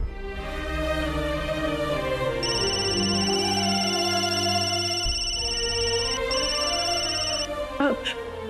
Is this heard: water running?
no